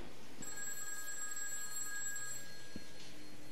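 Telephone in the Those Who Remain video game rings with a sharp electronic bell tone, one sustained ring of about two seconds, then a brief second burst, over dark ambient hum.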